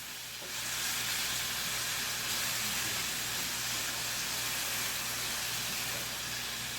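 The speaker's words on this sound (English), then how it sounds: "you're just gonna saute this about 3 minutes so the plums get soft." Plums sautéing in a pan, a steady close sizzle and hiss that holds evenly throughout with no talk over it.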